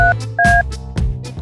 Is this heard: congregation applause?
no